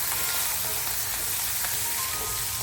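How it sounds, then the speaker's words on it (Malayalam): Finely chopped ginger, garlic and green chilli sautéing on high flame, a dense, loud, hissing sizzle that holds constant throughout like heavy rain on a surface, with no voices. "അതിലേക്ക് നല്ലവണ്ണം ചെറുതായി അരിഞ്ഞ ഇഞ്ചിയും വെളുത്തുള്ളിയും പച്ചമുളകും ഇട്ട് നല്ല ഹൈ ഫ്ലെയിമിൽ നമുക്കിതൊന്ന് വഴറ്റിയെടുക്കാം"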